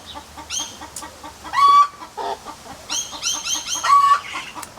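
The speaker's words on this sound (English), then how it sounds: "Oh yeah, we have chickens." Backyard chickens clucking and squawking close by in a garden, a string of choppy calls with a couple of louder rising cackles, no people talking.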